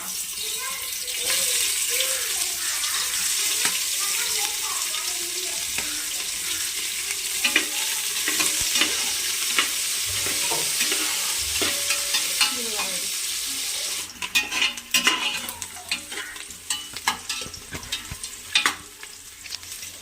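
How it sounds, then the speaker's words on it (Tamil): Onions frying in hot oil with whole spices such as cinnamon, cloves, cardamom and star anise for chicken biryani, a steady close sizzle with stirring scrapes, growing louder and busier with clattering stirs in the last few seconds. "இப்போ பார்த்தீங்கன்னா வெங்காயம் போட்டுக்கலாம்."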